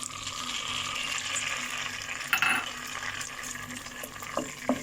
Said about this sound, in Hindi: पहले हमने कढ़ाई में 1 टीस्पून ऑयल डाला है। अब इस पे हम ये 2 अंडे को फ्राई करके निकाल लेंगे